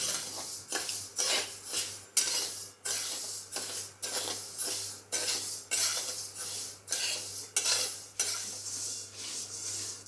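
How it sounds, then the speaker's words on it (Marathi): Moth bean dal dry-roasting in a kadhai, stirred with a metal spatula in repeated rhythmic scraping strokes, close and steady with short pauses between sweeps. "त्यामध्ये थोडी थोडी करून मी डाळ अशी भाजणार आहे"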